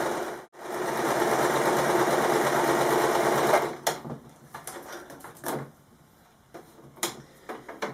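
A sewing machine stitches fabric squares for bias binding, running in one steady loud burst for about three and a half seconds, then stopping, followed by quieter handling clicks and knocks.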